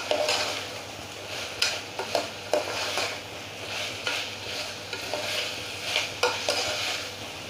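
Rice and masala mixture stirred in a pot with a spoon, irregular scraping and clinking strokes over a low steady hum, no talking.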